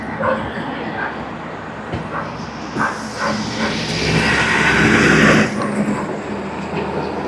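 A vehicle passes on a mountain road near Manali, its noise swelling to a loud rush and then cutting off, while a dog barks and people talk nearby.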